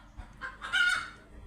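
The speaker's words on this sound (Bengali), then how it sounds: "এই ককর ককর করিচ্ছে এগুলো মুরগি?" Desi backyard hens cluck close by, one rising, drawn-out burst swelling in the middle and fading out, with no talking over it.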